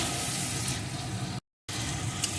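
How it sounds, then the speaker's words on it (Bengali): Fried potatoes and pointed gourd sizzle steadily in a pan while being sautéed, a soft continuous crackle with one short break. "এখন আলু পটলটা এর সাথে একটু ভালো করে কষিয়ে নেব"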